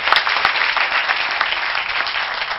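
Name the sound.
applause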